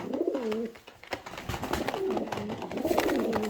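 Several pigeons cooing close by in overlapping, repeated low calls, with some rustling in the background.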